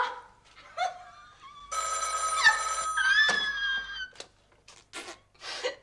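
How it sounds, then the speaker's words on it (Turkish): A telephone bell rings loudly indoors for about two seconds, a dense metallic trill, with scattered animal-like squawks and chirps before and after it. "Bütün gece telefon zırıltısı mı dinleyeceğiz burada?"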